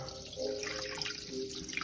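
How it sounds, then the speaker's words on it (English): Filtered water from a bottle pours in a steady thin stream into a new aquarium, a close, gentle trickling splash that continues throughout, fairly quiet and with no talking. "A beautiful stream of water."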